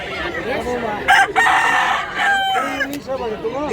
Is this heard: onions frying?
no